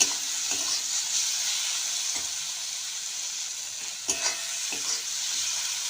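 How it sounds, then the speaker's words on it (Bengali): Ground cumin and coriander being stirred in a hot pan for an egg-and-dal dish, a steady frying sizzle with a few soft scraping strokes, close and continuous with no talking. "এক চামচ জিরের গুঁড়ো এক চামচ ধনের গুঁড়ো এবার আরেকটু নাড়িয়ে চাড়িয়ে নেব"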